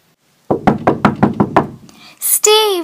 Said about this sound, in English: I heard a knock on my door